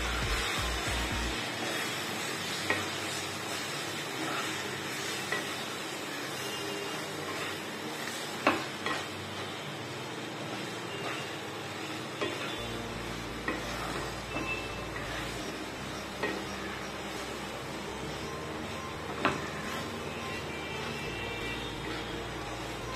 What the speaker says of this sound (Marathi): छान असं मिक्स करून घ्यायचं सगळं।